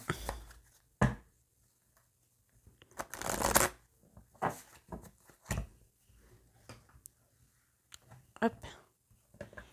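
Oracle cards are shuffled by hand in quick, soft riffling bursts and taps, close and intermittent, with a few louder slaps and brushing sweeps, under occasional quiet talk.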